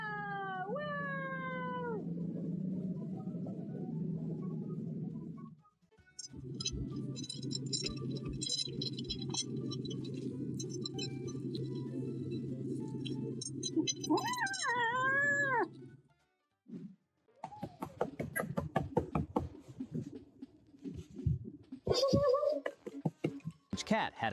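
A house cat meows and caterwauls in long, drawn-out wails, loud and close, with pauses between calls and light clinks and pattering toward the end.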